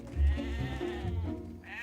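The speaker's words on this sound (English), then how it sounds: "Look at those poor black sheep." Sheep bleat with wavering, nasal cries over a low rumble, fairly loud and close, a couple of overlapping calls filling the short stretch.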